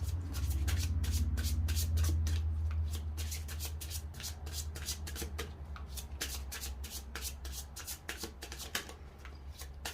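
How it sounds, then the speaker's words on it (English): Tarot cards riffle and slap in a steady, rapid rhythm of crisp shuffling, close and alone with no talk, a low hum running underneath. "While I'm shuffling"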